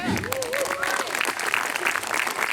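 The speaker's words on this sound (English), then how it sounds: "Let's give another hand of applause for Mike Delaney." A crowd claps and cheers steadily throughout at an open mic night in an amphitheater, loud and close, with a voice calling out over the applause.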